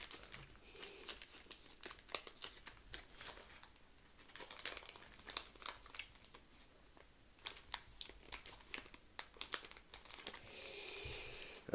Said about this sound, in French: Obligé de casser le booster, j'ai pas envie d'abîmer mes cartes.